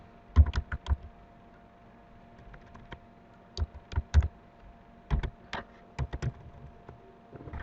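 Short clustered bursts of clicky computer keyboard keystrokes come in three or four groups separated by quiet pauses, close and fairly crisp, with no voices.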